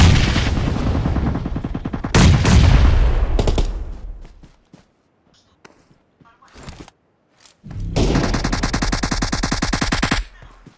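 Gunfire in PUBG Mobile on the Erangel map: loud bursts of rapid automatic shots, a quieter stretch with a few scattered cracks, then another sustained volley near the end.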